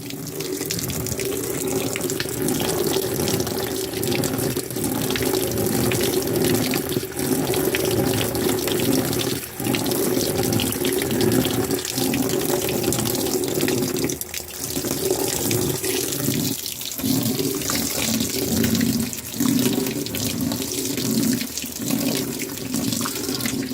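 A 2016 Whirlpool Cabrio top-load washer takes in water for its final rinse, a loud, steady rushing of incoming water that runs unbroken for over twenty seconds with no voices.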